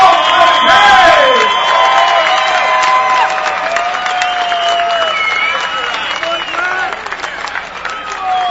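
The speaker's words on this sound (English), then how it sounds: "how about a round of applause for these two warriors who gave their all today?" A crowd at a combat sports event, a grappling match between two fighters ending by triangle choke submission, claps and cheers in a steady wash of applause, with an announcer's voice ringing over the noise.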